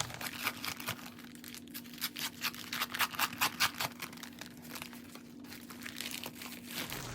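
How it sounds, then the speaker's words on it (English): A paper wallpaper package is torn apart up close in a series of crinkling, ripping bursts, loud and uneven, separated by brief pauses, with no voices. "So let me go ahead and tear this apart."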